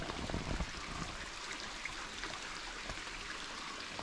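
Soft, continuous trickle of a small stream, faint and steady with a light hiss of running water.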